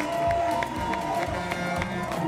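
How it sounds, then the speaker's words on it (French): A studio audience on a French television talk show applauds a guest, with a sustained crowd of clapping and some cheering close and loud throughout. "on va l'applaudir très fort"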